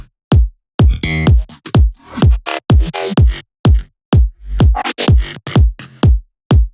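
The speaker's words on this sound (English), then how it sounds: "all these bass growls as well as this slap bass together with the kick sound like" Punchy kick thumps in a driving pattern, interlocked with growling synth bass and snappy slap bass notes, loud and dense, with no voices.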